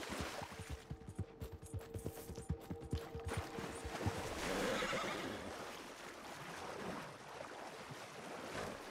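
A horse whinnies in Red Dead Redemption 2 Online, with rhythmic hoofbeats pounding at a steady gallop that give way to wind and ambient outdoor noise, all fairly quiet with no talking.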